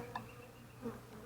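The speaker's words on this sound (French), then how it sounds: "Les abeilles vont découvrir l'entrée par eux-mêmes" Honeybees buzzing at a newly started hive set up from a nucleus colony, a steady close humming drone with a few individual bees passing nearby, no voices.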